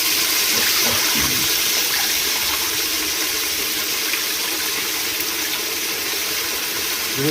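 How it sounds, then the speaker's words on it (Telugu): Water pours steadily over raw mutton being rinsed for a homemade dalcha, a continuous gushing, splashing wash heard close up with no voices. "మటన్ మంచిగా నీళ్ళు పోసి రెండు మూడు సార్లు మంచిగా కడుక్కొని వేసేసుకోవాలి"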